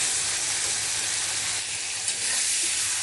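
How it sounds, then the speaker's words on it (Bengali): Shrimp and jackfruit seeds fry in a hot pan, giving a steady, dense sizzle with close spattering and faint stirring throughout. "এভাবে ফ্রাই করে নিয়ে তারপর কাঁঠাল বিচি দিয়ে একটু ফ্রাই করে তুলে নিয়ে"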